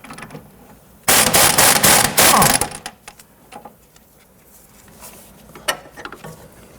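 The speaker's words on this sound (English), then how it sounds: "Loosen and remove the upper sway bar end link nut" A loud, rapid ratchet wrench with a 15mm socket loosens the upper sway bar end link nut on a 1992-1996 Toyota Camry, followed by fainter scattered metallic clicks; no one speaks.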